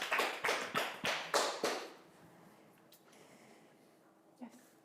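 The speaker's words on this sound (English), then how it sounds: "Big round of applause." An audience claps briefly at a student founders' contest midterm. Roughly seven loud, evenly spaced claps sound close by for about two seconds, then fade into quiet room noise.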